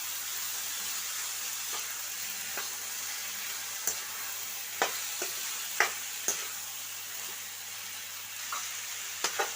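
Chopped broad beans stirred into a tomato curry in a pan, with soft sizzling and a few scattered clicks and scrapes of a spoon against the pan, close by and fairly quiet.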